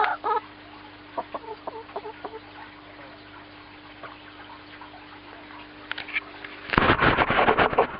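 Chickens near a green-roofed coop by an aquaponics setup give scattered soft clucks against a faint background hum, then a sudden loud burst of close squawking near the end.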